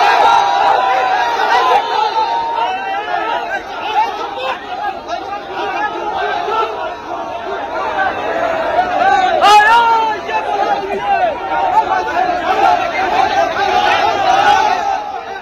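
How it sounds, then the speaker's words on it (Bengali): A crowd of ISF supporters chants slogans at a political confrontation near the state assembly, a loud, dense mass of shouting voices with rhythmic surges throughout. "আইএসএফ এর কর্মী সমর্থকরা তাকে উদ্দেশ্য করে চোর চোর স্লোগান দেন"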